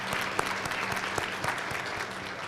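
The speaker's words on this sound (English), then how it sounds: "give you a round of applause for that" Audience applause at a superintendent's community breakfast, brisk even clapping from a crowd, moderately loud, with no voices over it.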